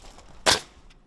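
A single sharp snap of a staple gun driving a fence staple, loud and close, with quiet room sound before and after.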